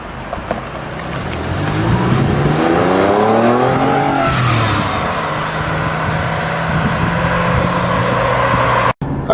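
Porsche 996 911 with the X51 power kit accelerating hard, engine revs climbing through gears with rising and falling pitch sweeps, loud and close, briefly cutting out near the end.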